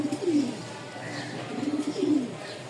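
A pair of Rajshahi Giribaz flying pigeons coo in soft, rolling bursts, three low throaty calls spaced across a short stretch, close by over quiet background noise.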